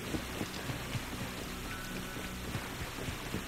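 Steady rain falling in Wo Long: Fallen Dynasty, a continuous soft hiss of drops with scattered patters, moderately quiet beneath calm, relaxed background music.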